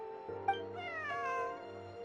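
A cat lets out a single drawn-out meow that bends in pitch, clear and fairly close against a quiet background.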